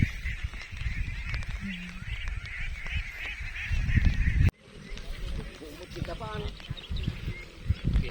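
A flock of ducks in a rice field lets out repeated honking quacks at close to moderate range, with rustling and handling noise and a person talking in the background.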